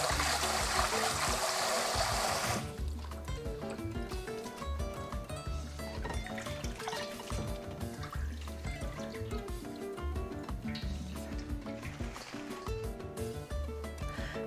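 Rinsed napa cabbage leaves drain with a brief, steady rush of water, loud and close, then give way to music for the rest.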